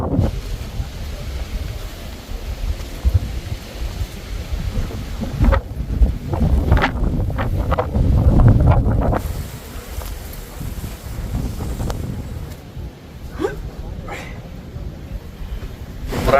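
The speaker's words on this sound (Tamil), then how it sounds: "நல்லா காற்று போட்டு பிரிச்சுக்கிட்டு இருக்கு" Strong wind rushes through a gap between large mountain peaks on a hill at India's southern tip, buffeting loudly and continuously in gusts with brief lulls, with a voice speaking now and then.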